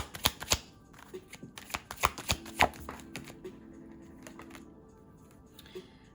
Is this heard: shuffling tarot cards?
yes